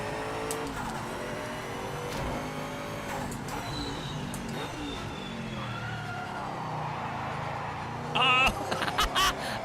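Race car engine in the Project Motor Racing video game revs and drones steadily up close, pitch rising and falling through gear changes, with brief sharp tyre squeals near the end.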